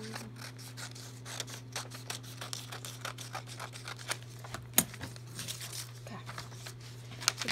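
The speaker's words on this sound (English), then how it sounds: "I found some baby scissors." Small scissors snipping through fabric while a scrub cap is cut out, a string of faint, quick crisp snips and rustles over a steady low hum, with no voices.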